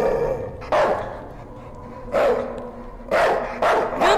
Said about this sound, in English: Stop barking, puppy! Oh god, it's so noisy!